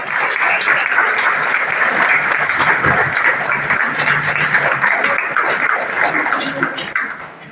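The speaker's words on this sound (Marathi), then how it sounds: "जोरात टाळ्या केंद्रामध्ये" Loud, sustained applause from an audience welcoming honoured guests at a ceremony, a dense steady clatter of many hands that holds throughout and fades slightly at the end.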